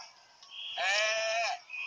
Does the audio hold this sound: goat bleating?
yes